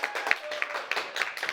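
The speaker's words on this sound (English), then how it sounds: "give a big round of applause" An audience at an awards ceremony claps in a short burst. The sound is a dense, fairly close patter of hands with a few sharper individual claps.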